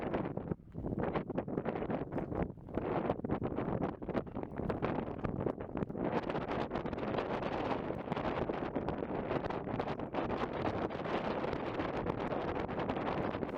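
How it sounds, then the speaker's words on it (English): Strong wind buffeting a sailboat while docking, shifting toward the west, a loud continuous roar and rumble with gusty surges throughout and no talking. "And the wind continues to increase and then shift more toward, so it's coming more from the west."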